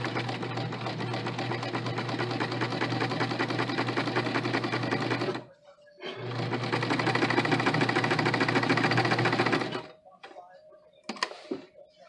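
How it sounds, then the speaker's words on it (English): A sewing machine running a basting stitch whirs loudly and steadily for about five seconds, stops briefly, then runs again for nearly four seconds before a few quiet handling clicks. "because this is just a basting stitch, we're going to do this at 1/8 of an inch"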